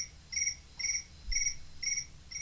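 A cricket chirps in a regular rhythm, five evenly spaced trilled pulses, clear and fairly close over a quiet room background, with no talking.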